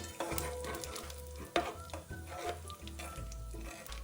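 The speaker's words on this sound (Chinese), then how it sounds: "油热后，将沥干水分的将鱼仔倒入，中高火，油爆至将鱼仔金黄酥脆后离火。" Dried anchovies, drained of water, deep-frying over medium-high heat in plenty of hot oil, a steady close crackle with small stirring clatters and one sharp knock partway through.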